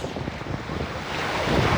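Sea waves washing on a cold October shoreline, a continuous broadband rush that swells slightly louder toward the end, with wind buffeting the microphone and no voices.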